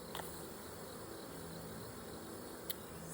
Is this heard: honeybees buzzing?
yes